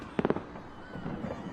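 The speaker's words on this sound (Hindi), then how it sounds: "ये पूरी आतिशबाजी और आधे शहर में खलबली मची है" Fireworks going off over a city: a quick cluster of sharp cracks followed by a rumbling, crackling tail, moderately close.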